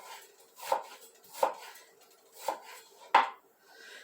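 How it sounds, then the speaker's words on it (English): A knife chops onions and peppers on a cutting board in a home kitchen: four separate sharp, close thuds spaced roughly evenly, with quiet gaps between them and no talk. "So I'm just going to chop these up."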